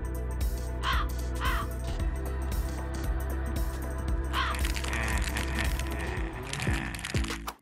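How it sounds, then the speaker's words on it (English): Several crow caws ring out in short bursts over a steady bed of music, with a few sharp cracks near the end. "instead of an alarm clock, we have some crows."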